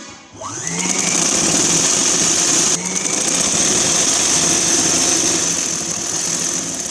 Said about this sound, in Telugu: ఇలా మొత్తం రెండింటిని కలుపుతూ ఒక కుట్టు వేస్తున్నాను.